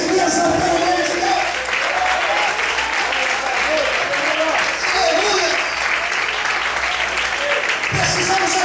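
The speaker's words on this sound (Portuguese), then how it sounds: "Todos podem aplaudir e exaltar o nome de Deus." A church congregation claps together, with sustained, loud applause filling the room and voices mixed into it throughout.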